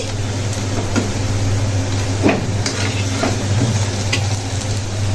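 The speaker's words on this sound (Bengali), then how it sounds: "বড়াগুলো দিয়ে দিলাম, এখন আমি ভেজে নেব।" Lentil fritters frying in hot oil in a pan, a steady close sizzle with occasional stirring and utensil clinks over a constant low hum.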